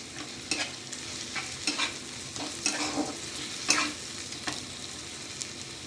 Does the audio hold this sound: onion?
yes